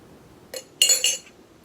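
Glass drinking straws clink against a cup or mason jar, a faint tap followed by two brighter, ringing clinks close by in a quiet room.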